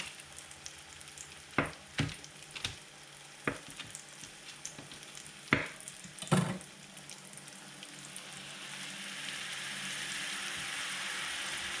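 Butter sizzling in a hot pan beside frying Wiener schnitzel, a steady crackling hiss punctuated by several sharp pops and scrapes, swelling louder toward the end.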